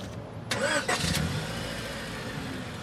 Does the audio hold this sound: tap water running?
no